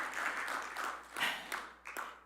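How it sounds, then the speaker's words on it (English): A church congregation applauds during a Wednesday evening sanctuary service, a moderate patter of clapping in several swelling bursts, somewhat distant and soft, with no talk over it. "Can we just give Brother Tetteh another round of applause, please, for his presence, his words?"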